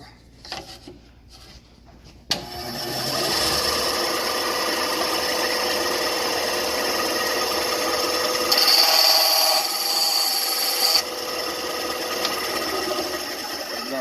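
A bandsaw runs with a steady whine and rasp as it makes an angled cut through wood, a continuous close buzz that rises briefly in the middle of the cut before settling.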